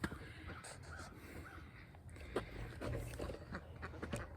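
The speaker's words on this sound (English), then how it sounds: "The ducks are telling me they need to be fed" Ducks out in a bird yard call repeatedly, waiting to be fed, with harsh, raspy squawks coming at irregular intervals at moderate distance over faint outdoor background noise.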